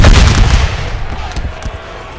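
Musket volleys crackle in a Civil War battle in the North & South mod, with loud overlapping shots from massed infantry early on, then scattered booms thinning out as the firing slackens.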